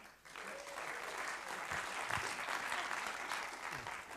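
Sustained applause from a conference audience at a leadership and economics presentation, a dense, steady wash of many hands clapping for about four seconds, fairly loud and close.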